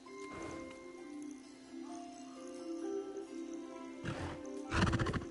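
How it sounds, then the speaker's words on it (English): A horse neighs in Hogwarts Legacy: faint whinnying calls over a quiet, humming game ambience, with a louder, harsher burst of animal noise near the end. "Oh, they're horses."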